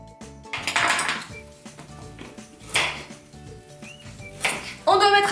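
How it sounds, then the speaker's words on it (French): A knife slicing a carrot into rounds, with a scattered run of short knocks and clinks of dishes and cutlery close by and a brighter clatter near the end. "Couper la carotte en rondelles"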